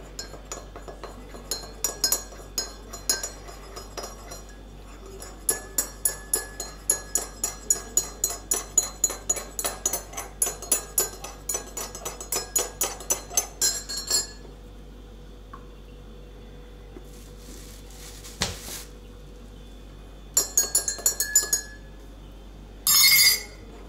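A spoon clinks steadily against a glass in a quick, regular rhythm while stirring honey into a drink, close up, then stops, followed by a few scattered clinks and taps.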